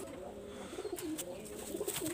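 Pakistani high-flyer pigeons in a loft give soft, repeated throaty coos, faint and fairly close, over a low background hum with a few light clicks.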